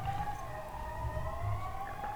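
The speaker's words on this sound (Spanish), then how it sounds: "Se oyen todavía las sirenas pasando por aquí, por la calle Alcalá." Sirens wailing at a moderate distance along Calle Alcalá, a sustained wavering tone over a low traffic rumble, no talking.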